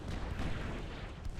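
Main guns of a warship firing in Ultimate Admiral: Dreadnoughts, a low rumbling boom with a rolling, distant-sounding roar that stays fairly quiet and brief.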